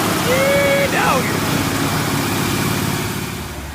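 A Chevy 383 stroker V8 in a Z car runs with a steady, loud low rumble throughout, while a brief whistling tone rises and falls near the start.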